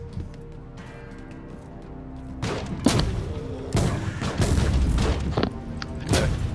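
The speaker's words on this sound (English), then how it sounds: "Exodus rifle is so much fun." Exodus rifle gunfire in the Inquisitor Martyr video game: booming shots and blasts hit in bursts after a quieter opening, loud and punchy over dense game noise.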